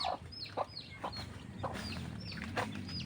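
Small chicks give quick, high repeated chirps after being caught, close and fairly loud, spread over a few seconds.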